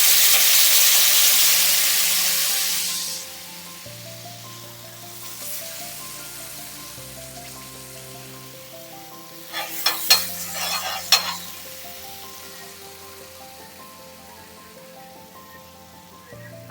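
Bhaji for Bombay tawa bhaji pav sizzling loudly on a hot tawa, a strong hiss in the first few seconds that fades, then quieter frying with a burst of clattering stirring strokes near the end, no talk.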